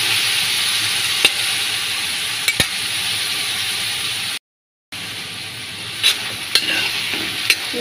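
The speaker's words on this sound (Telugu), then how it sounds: "ఉల్లగడ్డలు అన్నమాట, వీటైతే వేసేసుకున్నాము. ఇదైతే కాసేపు మగ్గనిద్దాం." Onions with carrots and green peas cooking for vegetable rice in a pan, steady close hiss and sizzle with a few faint clicks, a brief dropout midway, no talking.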